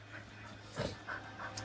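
Close, quiet dog panting with soft breathy puffs and a faint whimper, set against a steady low hum.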